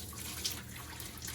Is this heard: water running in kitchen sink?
yes